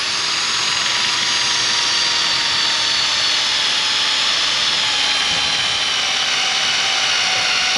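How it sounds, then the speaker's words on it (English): Steady, loud mechanical whine of a drill boring at a slight upward angle into a maple tree trunk for tapping, running continuously with a broad hiss, no pauses or talk. "let's go ahead and drill"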